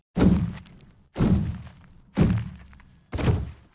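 Four heavy stomp kick sound-effect thuds with added effects and Foley, evenly spaced about a second apart, each with a short boomy decay, close and loud with no talking.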